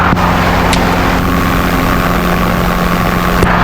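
A Robinson R22 helicopter's engine and rotor run steadily and loudly close by, a constant droning hum with a faint click near the start and end.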